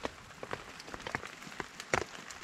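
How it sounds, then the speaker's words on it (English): Heavy rain drumming on a tarp over a cold-weather kayak campsite, a steady patter of drops with scattered sharper taps and one louder splash near the end, heard close and alone. "So it's been pretty torrential rain for quite a while now"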